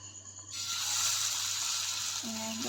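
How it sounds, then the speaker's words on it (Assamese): Red lao pitha cakes fry in a small amount of oil in an Assamese home kitchen, giving a steady, fairly loud sizzle that starts abruptly and holds, with a brief low tonal hum near the end. "এতিয়া পিঠাকেইটা ভাজি ল'ম"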